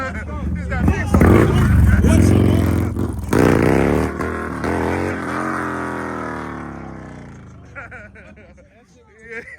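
A Harley-Davidson bagger motorcycle engine revs hard and loud, the deep rumble climbing in pitch as the bike pops a wheelie, then fading away as it pulls off, with people chattering nearby.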